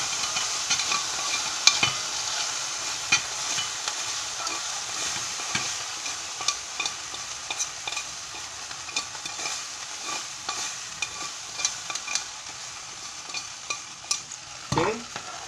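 Pieces of meat fry in a frying pan for low-carb chow mein, a steady sizzle broken by frequent sharp scrapes and clicks of stirring throughout, with no voices.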